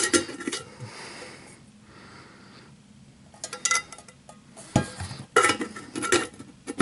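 A Snow Peak titanium pot with its lid, which doubles as a frying pan, is handled, giving scraping and clinking metal sounds with a few sharp knocks near the end, close and fairly quiet.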